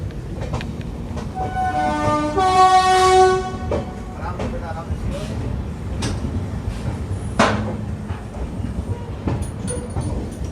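Jaynagar Amritsar clone Humsafar express train runs through Ludhiana Junction, with a loud multi-tone horn blast over the rumble and clatter of the coaches, followed by sharp clacks over the rail joints.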